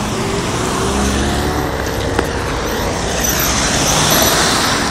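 Steady broadband road traffic with a car's engine and tire rumble, continuous and fairly loud, with passing vehicles swelling toward the end; no talking.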